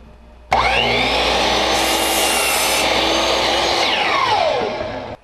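A hand saw cuts through a wooden picture frame piece, giving a steady, continuous rasping stroke that runs loud and close for about four seconds, then tails off as the cut finishes.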